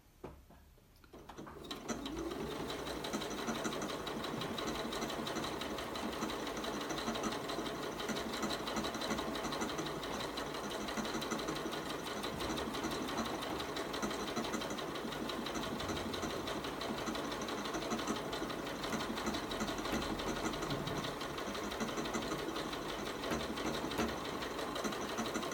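An embroidery machine stitches a design onto fabric for a cushion cover, a steady dense mechanical whir with rapid ratcheting needle clicks running continuously and close after a brief quiet start, with no talking.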